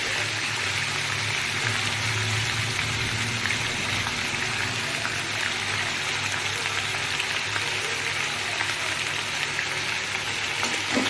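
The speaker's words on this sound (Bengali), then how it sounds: "আচ্ছা, এবার দিয়ে দেবো আদা রসুনের কুচিটা।" Chopped ginger and garlic sizzle steadily in hot oil in a frying pan, a dense continuous frying hiss at close range with faint stirring beneath it.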